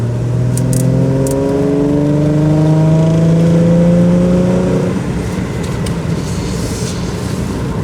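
A Ford Mustang fitted with a K&N air filter accelerates out of a roundabout, its engine droning loud and close as the pitch climbs across two gear steps, then easing off into road and tyre rumble.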